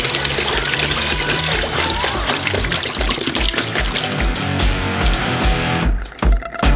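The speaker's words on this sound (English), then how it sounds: "We open up some bottled chicken eggs and pour them into a bowl." Liquid chicken eggs from bottles pour and splash steadily into a bowl, a continuous glugging stream that tapers off near the end.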